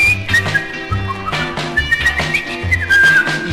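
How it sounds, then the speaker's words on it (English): A cheerful little tune is whistled in clear, melodic phrases over a bouncy backing band, the bright whistle riding steadily above the music throughout. "happily whistling a little song"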